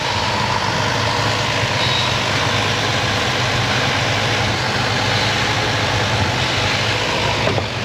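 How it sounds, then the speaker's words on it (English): A car engine idles steadily and loudly up close in a repair shop, a continuous low rumble with a slightly erratic idle and no talk over it. "all I can see right now is a slightly erratic idle"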